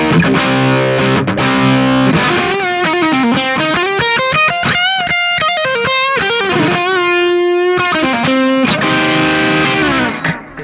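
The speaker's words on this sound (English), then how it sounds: "let's start with the OD1 first. And for this, I'll be adding some slapback delay and just a bit of reverb to it as well." Electric guitar played through a Vox AV15 amp on its OD1 overdrive channel with slapback delay and a touch of reverb, a loud distorted riff of chords and sustained notes running continuously for about ten seconds.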